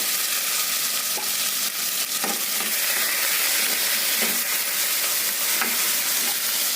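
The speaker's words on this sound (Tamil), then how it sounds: "இப்போ தக்காளி, வெங்காயம், கருவேப்பிலை போட்டு வதக்கிக்கிடலாம்." Tomato, onion and curry leaves sauté in a hot pan, giving a steady, close sizzle broken by a few scraping stir strokes, with no talking.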